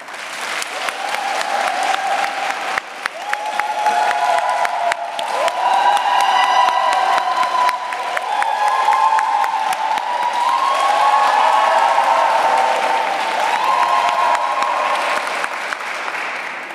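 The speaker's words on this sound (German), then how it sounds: "Ihr dürft jetzt nur noch für eine Person klatschen" An audience at an Antiquity Slam event claps in sustained, loud applause with scattered cheers and whoops, a dense wash of hand claps lasting throughout.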